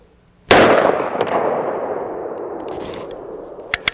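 A single loud gunshot fires a 230 grain Xtreme Penetrator round at a riot shield from about 10 yards. The sharp blast has a long echoing decay, and a couple of faint clinks follow.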